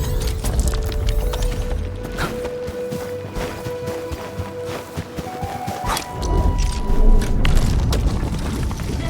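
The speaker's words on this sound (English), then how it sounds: "it's time to shred some Originium ore to powder" A machine in Arknights: Endfield shreds Originium ore to powder with irregular heavy clanks, booms and grinding thuds over a constant mechanical hum, swelling louder near the end.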